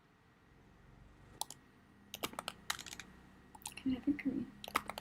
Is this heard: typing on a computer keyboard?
yes